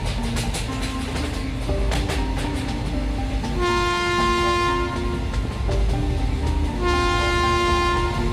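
A cartoon train runs on steadily with a continuous rumbling clatter, while long sustained horn toots sound loud and near over the rolling noise.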